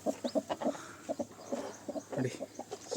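Baby chicks on a village farm, heard as a quick run of short, high peeping chirps and clucks in irregular bursts, fairly close and clear over a quiet background.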